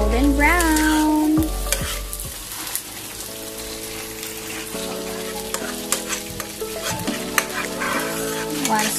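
Onion and garlic frying in hot oil for a chicken wings dish crackle and sizzle steadily, with a few stirring knocks and some tonal background music running throughout.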